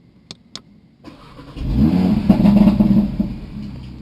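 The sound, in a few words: car engine starting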